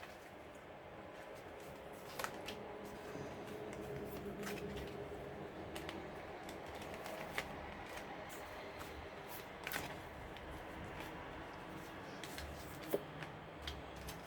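Tarot cards are cut and shuffled at close range, a quiet soft riffle with scattered sharp taps and card slaps spread through the stretch, no voice heard.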